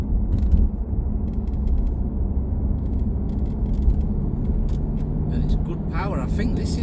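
Mercedes-Benz E220d 2.0-litre diesel with automatic gearbox cruises along a main road, a steady low rumble of engine and road noise inside the cabin, quiet and smooth, with someone talking over it.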